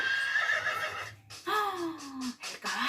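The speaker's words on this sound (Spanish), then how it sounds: "Como hace el caballo." Horse whinnying in several bursts, the last one a long descending neigh, loud and close with no talk over it.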